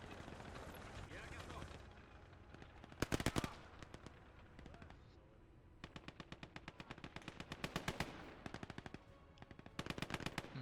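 Machine gun fire from the World War II strategy game Gates of Hell rattles in rapid bursts, with several separate volleys of sharp, evenly spaced shots over a low rumbling battle background.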